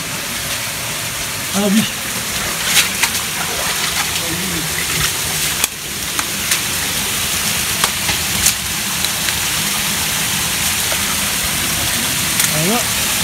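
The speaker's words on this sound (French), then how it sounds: "On entend un petit bruit de torrent là." A small mountain torrent rushes as a steady, fairly close wash of water throughout, while someone briefly speaks French over it and scattered clicks and footsteps break through.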